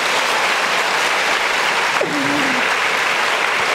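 Church congregation applauding during a prayer meeting, a dense, steady wash of clapping that holds throughout, with a brief voice rising over it partway through.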